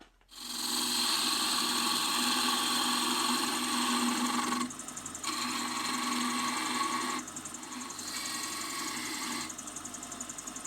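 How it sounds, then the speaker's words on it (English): A wood lathe spins a square wooden block for a Christmas angel ornament while a skew chisel faces it off. The motor hum is steady and loud, and the tone shifts as the cut starts and stops. "This was a pretty square block, but I'm going to face this off a little bit using a skew."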